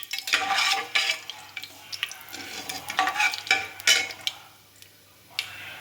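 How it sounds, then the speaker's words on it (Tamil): Chana dal and urad dal dry-roast in a pan for rice upma, a spatula scraping and stirring in repeated bursts with light sizzling and pan clatter close up, then a brief quiet near the end. "தேவையான அளவு கடலைப்பருப்பு உளுத்தப்பருப்பு சேர்த்துருக்கோம். இப்போ பொன்னிறமாக வர வரையும் வறுக்கணும்."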